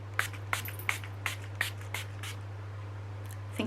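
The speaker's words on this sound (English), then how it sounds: "I'm just gonna spritz that all over my face." Revolution Hydrate and Fix setting spray spritzed onto a face, a run of about ten short, faint hissing puffs in a steady rhythm over a low electrical hum from a nearby fan.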